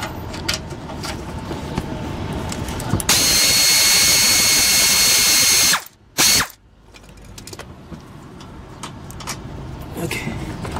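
A ratchet wrench turns a 10 mm bolt on the subframe of a 2007 Honda CR-V, with close clicking strokes, a loud sustained whirring burst in the middle, a brief cutoff, then more ratcheting.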